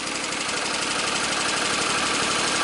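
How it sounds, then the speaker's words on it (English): A Kohler twin-cylinder engine, running on both cylinders after an ignition coil replacement, runs close and loud with a steady drone and a faint rapid tappet tapping underneath. "Running on both cylinders now. Got a little bit of tappy tap."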